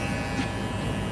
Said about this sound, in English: I'm gonna start now working my clipper a little bit